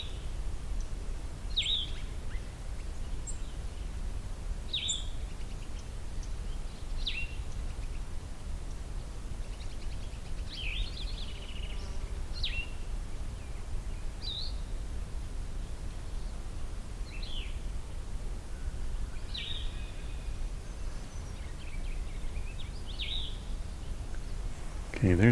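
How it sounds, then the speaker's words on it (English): A Cassin's vireo sings near a mountain meadow pond: short, high, slurred phrases repeat every few seconds with pauses between, faint and distant over steady outdoor hiss. "And Cassin's vireo."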